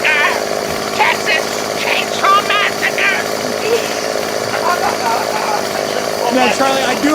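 A chainsaw-like engine drone runs steadily and loud beneath overlapping talk and chatter, which stays prominent throughout.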